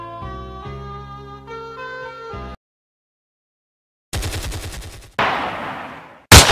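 Automatic bursts from a Kopassus service machine gun firing at roughly 100–120 rounds per minute, loud and close: an earlier sustained stretch, a silent gap, then two dense rattling bursts ending in a sharp final crack.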